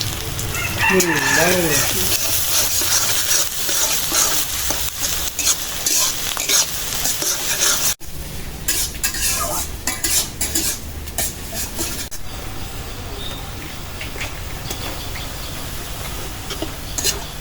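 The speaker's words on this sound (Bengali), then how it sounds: "আমি পেঁয়াজটা একদম লাল করে ভেজে নিলাম শুকনা মরিচও" Onions and dried chillies fry in a pan with a steady, close hiss and occasional stirring scrapes, while a rooster crows near the start and a sharp clank interrupts midway.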